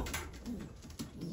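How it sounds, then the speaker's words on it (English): A racing pigeon coos softly and close by in low repeated calls on its return to the loft after a 150-mile old-bird race. "Twelfth pigeon just came back."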